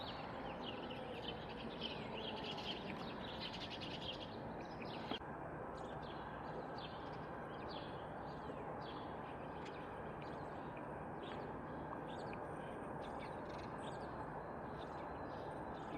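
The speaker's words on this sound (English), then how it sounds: "Yeah, birds." Birds call outdoors, crows among them, faint chirps and caws scattered over steady low background noise and distant hum, with no voices.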